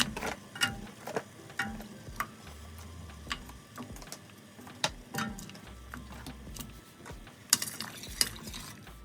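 Water being stirred in a pot while cooking cherry vareniki, with repeated scraping clinks of a utensil against the pot and a low sloshing rumble, close and fairly quiet, no voices.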